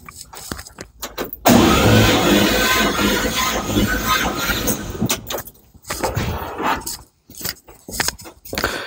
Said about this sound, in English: I'm going to crank it over, and if we've got compression, it's going to build up and it's hold it.